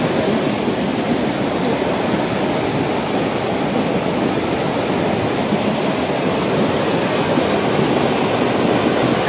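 Swollen Chancay river in flood, rushing with a loud, steady, unbroken roar of water heard close by.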